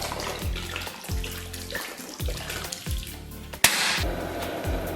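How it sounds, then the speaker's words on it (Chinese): Cold water pouring into a pot holding washed beef, a steady close splashing flow with rhythmic low sloshing and one sharp knock near the end; no talking. "给锅里边来点冷水"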